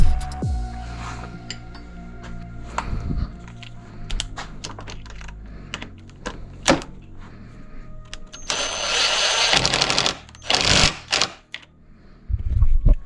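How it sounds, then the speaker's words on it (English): Impact wrench bursts on a WP XPLOR motorcycle fork during a 20mm lowering kit install, with scattered clicks and clatter early, then two or three loud broadband rattling bursts near the end, close up and without talk. "I'm using an impact here."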